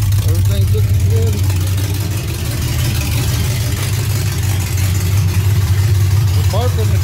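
A warmed-up car engine idles steadily at close range, its low rumble constant throughout with brief faint chirps and background noise on top.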